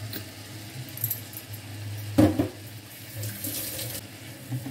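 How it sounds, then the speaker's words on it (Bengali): A little water is poured into a frying fish kalia spice paste in a pan, a soft running pour with a brief sharper splash and sizzle in the middle, quiet and close with no talking. "একটু জল দিয়ে দিই।"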